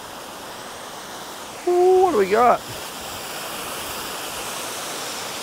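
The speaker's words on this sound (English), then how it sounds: "So the water's just flowing nicely. It's not raging. Just trickling along well." Water pours steadily at Mobong Falls, a gentle, unhurried flow rather than a raging torrent, making a constant broadband rush through the whole stretch while a nearby voice speaks briefly partway through.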